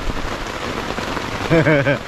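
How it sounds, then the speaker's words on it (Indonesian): Heavy rain pours steadily on a mountain, a dense close hiss of drops, while a person's voice briefly rises near the end. "kita masih tertahan di sini karena hujan makin deras, tidak kunjung reda."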